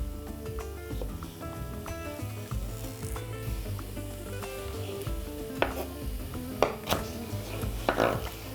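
Chopped onion sizzles and fries in a heated pan with celery nearby, a soft continuous crackle broken by a few sharp clinks and stirring scrapes, fairly quiet and close.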